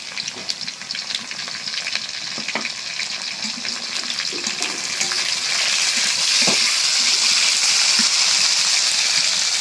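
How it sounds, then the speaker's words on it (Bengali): Water is poured into a cooking pot of frying green chillies for a dried-fish and bottle-gourd dish, joining a steady loud sizzle that swells and becomes more rushing partway through. "একটু পানি দিয়ে দিই।"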